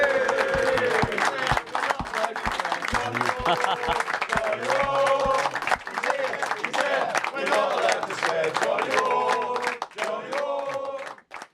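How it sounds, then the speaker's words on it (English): A television studio audience gives a big round of applause for a guest, former footballer John Wark, on a talk show: dense, sustained clapping with some cheering that carries on for most of the stretch before trailing off at the end. "Give him one more big round of applause."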